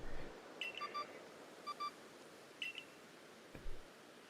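Short electronic bleeps from a handheld phone-like device in the Pokémon Legends: Arceus video game, arriving as several brief paired chirps spread across a few seconds over a soft ambient background.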